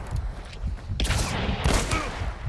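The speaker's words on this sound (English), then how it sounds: "a shotgun" Shotgun fire in a video game, with two sharp blasts about a second apart, each trailing into a noisy crackle over a steady low rumble of background game sound.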